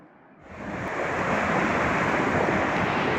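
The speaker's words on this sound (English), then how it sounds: "And that's the Kadisha river." The Kadisha river flows through its deep valley near Bsharri in Lebanon, a broad, steady rushing wash that swells in over the first second and holds, with wind over the microphone.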